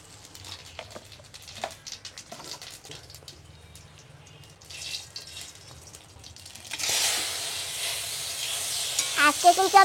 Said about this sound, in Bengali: তেলে দিয়ে দেব কটা জিরা,